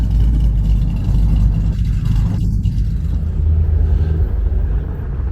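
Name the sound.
1969 Chevrolet Chevelle engine rolling in at car show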